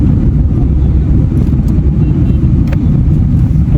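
A Tata Nano car driving through city traffic, a loud, continuous engine and road rumble with wind buffeting and a few faint higher sounds from the surrounding traffic.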